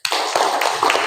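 A classroom of children gives a short burst of applause for a classmate, quick close claps lasting about a second.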